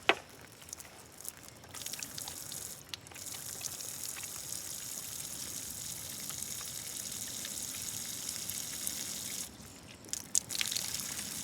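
Water pours steadily from a solar shower bag on a van roof as hands are washed beneath it, a continuous soft splashing trickle that runs for most of the clip with brief breaks near the start and end.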